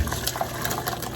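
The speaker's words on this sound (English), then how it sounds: "We're just going to take this and pour this through the strainer" Hot strawberry-top syrup is poured from a pot through a fine mesh strainer into a measuring cup, making a close, steady liquid trickle and splash for a moment with no talking.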